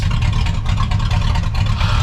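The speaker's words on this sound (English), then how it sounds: "But truck is sitting here idling." A custom truck fitted with a rear-mounted radiator sits idling, giving a steady, close, low engine rumble that holds even throughout, with no voices.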